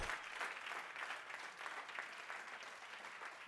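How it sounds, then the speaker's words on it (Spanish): A church congregation applauds during a sermon, producing a continuous patter of many people clapping that is quiet and distant but steady throughout, with no voices on top. "Dale otro aplauso al Señor."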